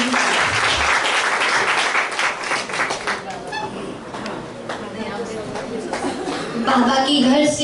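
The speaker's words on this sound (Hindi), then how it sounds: "इसलिए जोरदार ताली" Loud applause from the audience at a Brahma Kumaris commemoration event, dense clapping throughout with voices chattering and calling out over it, swelling again near the end.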